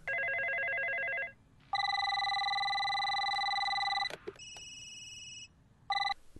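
Electronic telephone ringing in loud bursts, several different ring tones overlapping and alternating, with brief pauses between.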